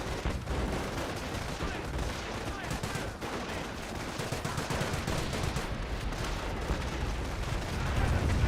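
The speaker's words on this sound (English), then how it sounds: "Calliope rocket barrage ring on in." Calliope rocket barrage in a Company of Heroes battle, a dense, continuous roar of launches and impacts crackling without pause, loud and close for the whole stretch.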